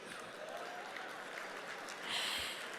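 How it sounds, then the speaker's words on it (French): Soft, distant applause from an audience at the Africa CEO Forum awards ceremony, with a continuous wash of clapping that rises briefly near the end and carries no talk. "Vous pouvez vous applaudir."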